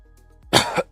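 A person coughs in a few harsh, close bursts, one long hack followed by two shorter coughs, after a brief quiet lead-in.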